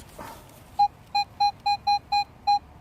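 A metal detector beeps with a clear, steady tone, seven short pulses in a fairly even rhythm after a brief rustle, in woods.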